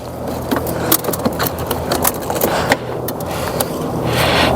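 Glass being worked out of a front door window on a Ford Mondeo: busy scraping, rattling and knocking clatter with sharp clicks, close and continuous, with no speech.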